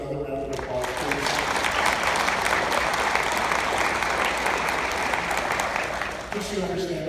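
A conference audience applauds the event sponsors, sustained broad clapping from a large room that swells and holds steady before tapering, with a voice briefly heard at the start and end.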